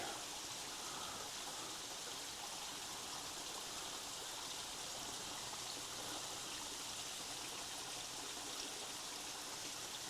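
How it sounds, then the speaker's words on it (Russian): Steady rushing of falling water, a constant even splash and hiss from a small cascade on the Grdjevica river near Budva, Montenegro, fairly soft and unbroken throughout. "Это водопадик небольшой."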